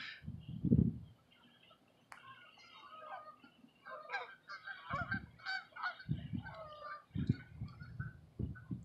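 Geese on Lake Michigan honk repeatedly in a noisy chorus, some calls nearer and louder, with low thumping bumps underneath.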